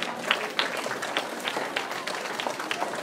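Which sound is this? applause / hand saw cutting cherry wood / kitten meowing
applause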